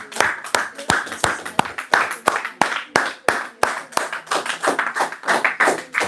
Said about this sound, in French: Continuons à acclamer pour le roi des rois.